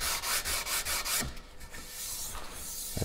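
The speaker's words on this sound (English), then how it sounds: "Then I switch to 150 and I just sand it so that it's really smooth." A wooden paddle is sanded by hand with 150 grit sandpaper: rhythmic, close rasping strokes at first, then one longer continuous scrubbing pass, with no talking.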